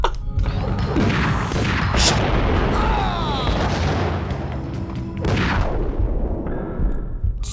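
Grenade explosions boom repeatedly in the video game Max Payne, loud dense blasts mixed with gunfire in a continuous chaotic firefight, with a few sharper bursts standing out.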